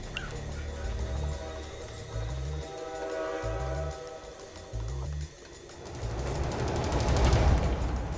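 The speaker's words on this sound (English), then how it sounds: "The train." Passing train heard during the RWBY Black Trailer action scene, a loud rumbling rail roar with horn-like tones, heavy blocky low thumps of music or impacts, rising to a dense rushing swell near the end.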